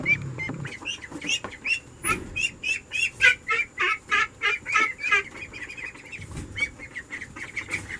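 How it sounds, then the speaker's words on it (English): Young ducklings in a crate quack in a rapid series of short, nasal calls, close and fairly loud, with some rustling and shuffling around them. "They are actually starting to quack."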